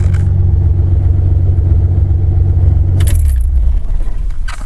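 A 1982 Ford Granada inline-six running on factory propane idles loud and close with a steady low rumble, then winds down as it shuts off, followed by a few light clatters.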